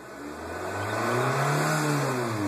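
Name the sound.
Nissan Versa engine revving with the pedal floored in park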